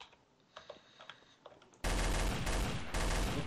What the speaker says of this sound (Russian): Я слышу выстрелы